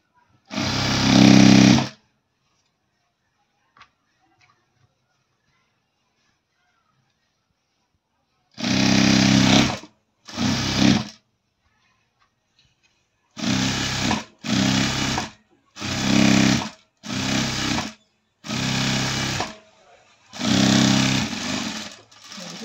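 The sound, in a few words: sewing machine stitching chudidar top lining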